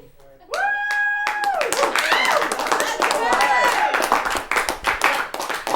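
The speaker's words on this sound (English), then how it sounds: "I think that's sympathy clapping since I looked, rather stupid up there." Sympathetic clapping from a live audience at a university late-night show, after a brief tonal sound at the start; scattered hand claps build into a sustained, fairly loud ovation with some faint voices mixed in.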